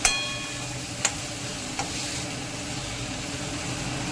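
Ground spice masala sizzles in hot oil in a pan for a bell pepper bhaji, a constant close frying hiss broken by a few sharp clinks of a utensil against the pan.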